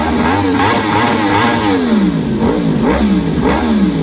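A motorbike engine revs hard and pulls away, its pitch rising and falling in repeated surges as it rides off, loud and close with no talking over it.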